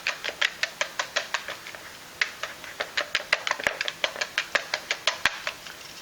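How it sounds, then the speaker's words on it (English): A whisk run quickly through a mashed potato mixture for gnocchi, giving rapid rhythmic taps and clicks against a bowl in close, bright bursts with short pauses. "We're going to just get a whisk, and all I'm going to do is just quickly run through this once with said whisk."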